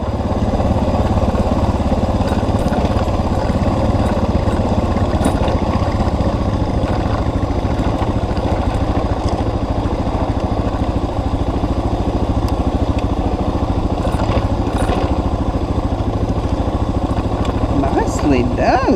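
A KTM motorcycle on a ride along Oyama Lake Road in British Columbia gives a loud, steady engine drone throughout, with voices speaking over it.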